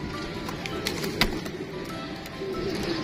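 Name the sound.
golden Kamgar pigeons of Sadhna breed cooing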